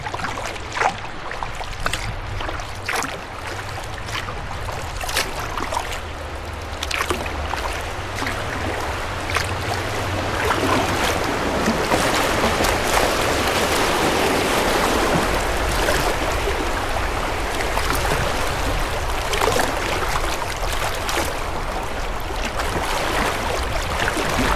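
Canoe paddling down rapids on the Nith River, with a constant rushing of fast water and occasional paddle splashes, the water noise swelling louder in the second half.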